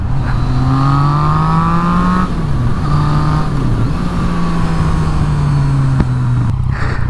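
Motorcycle engine heard while riding, picked up through a GoPro microphone in standard mic mode, a steady loud drone that rises and falls with the throttle, with wind noise and no talking.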